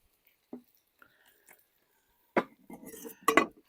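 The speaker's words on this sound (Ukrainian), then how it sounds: "Добре перемішуємо все це діло" A spoon scrapes and clinks against a pot of potatoes with garlic and teriyaki, cooked over a fire outdoors, in a few short bursts, louder and busier toward the end, with quiet pauses between.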